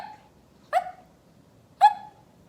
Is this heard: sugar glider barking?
yes